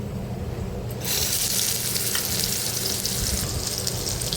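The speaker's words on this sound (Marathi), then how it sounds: "कच्चं वाटण आहे त्याच्यामुळे हे आपल्याला तेलामध्ये व्यवस्थित परतून घ्यायचं आहे" Raw ground masala paste hits hot oil with curry leaves for a ridge gourd curry, bursting into a loud, steady sizzle after a quiet first second and hissing on without talk.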